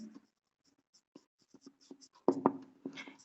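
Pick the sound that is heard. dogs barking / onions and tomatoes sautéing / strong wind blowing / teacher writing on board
teacher writing on board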